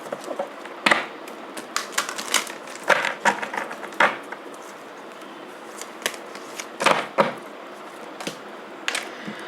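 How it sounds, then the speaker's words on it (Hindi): Tarot and oracle cards being shuffled by hand, bursts of crisp papery riffling and tapping clicks in irregular clusters, fairly close and alone without talk. "Okay, one more shuffle."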